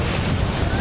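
Strong wind at Niagara Falls, a loud, steady roaring rush of buffeting air mixed with heavy falling-water spray noise, constant throughout the brief moment.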